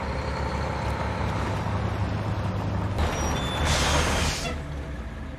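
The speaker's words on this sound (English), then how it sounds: "A big ass truck." A big truck in a TV drama scene rumbles at idle with a low engine drone, then lets out a loud, sharp hiss of air brakes lasting about a second and a half before the engine settles again.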